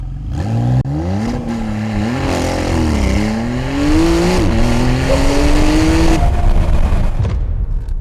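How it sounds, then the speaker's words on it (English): Porsche 911 GTS (991.2) launching in Sport Plus manual mode, engine roaring loudly and revving upward through several gear changes, pitch climbing then dropping at each shift before cutting off near the end. "I'm gonna put this car in a proper mode, Sport Plus manual, and we can do a launch"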